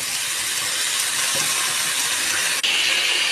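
Sliced potatoes hit a hot pan of onions for a vegetable dish, giving a steady, loud broadband sizzle that runs unbroken throughout with a brief dip near the end.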